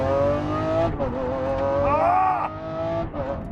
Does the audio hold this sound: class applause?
no